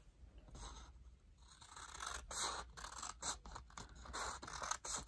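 Scissors snip through folded colored origami paper up close, a run of quick crisp cuts and rustling paper scrapes, irregular in rhythm and fairly quiet, with no talking.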